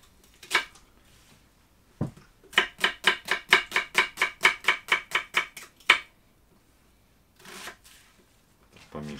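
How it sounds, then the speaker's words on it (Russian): A knife chops an onion into half rings on a cutting board in a home kitchen, making a steady run of about fifteen crisp, evenly spaced cuts, with a few isolated knocks before and after. "Лук нарезаем полукольцами."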